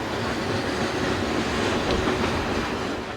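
An eastbound coal train on a former Norfolk and Western and Virginian line rolls past close by, a loud, steady rumble with wheel clatter and track noise the whole time, no voices.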